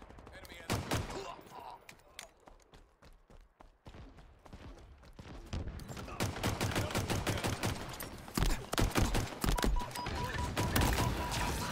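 Pistol gunfire in the Halo Infinite video game: bursts of rapid shots and sporadic single cracks, sparse at first then building into dense, loud volleys, with a voice talking over them.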